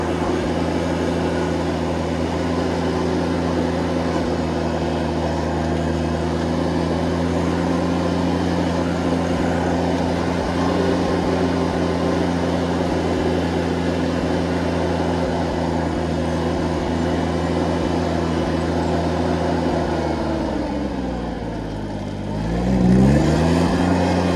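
A John Deere 322 lawn tractor engine runs steadily and loudly nearby for a long stretch, then dips and surges near the end as it is revved.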